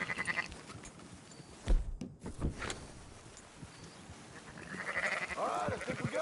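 Sheep bleat repeatedly in the Western video game Red Dead Redemption, a flock calling at mid distance with wavering cries over ambient game sound, strongest toward the end.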